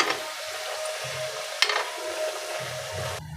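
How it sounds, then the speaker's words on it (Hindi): A masala puri made with pumpkin fries alone in hot oil in a kadhai, making a continuous soft sizzle with one sharp tap of a utensil partway through. "तो हम एक एक पूड़ी डाल के तल लेते हैं।"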